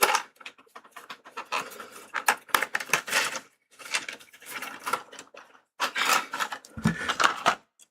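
Tabletop role-playing dice tumbling and clattering across a surface in several bursts of rapid clicks and rattles, close and fairly loud, separated by short pauses, with no speech.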